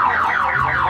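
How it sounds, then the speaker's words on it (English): An alarm on an opened large merchandise case at a Puerto Rican street food spot sounds up close and loud as a continuous warbling electronic siren, sweeping up and down in repeated cycles. "The alarm's gonna go off."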